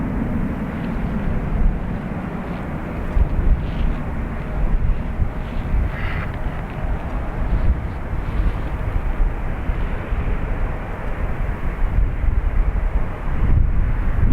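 A Delta airliner takes off from Dublin Airport bound for Boston, a steady, loud engine roar that holds for the whole stretch, mixed with gusty wind buffeting the microphone.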